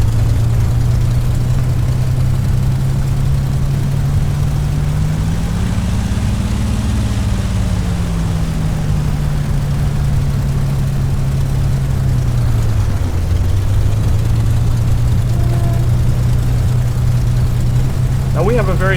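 A2A P-51D Mustang in Flight Simulator X idles on the ramp, its piston engine giving a steady, loud low rumble with a slight pitch rise and dip, continuous and close throughout.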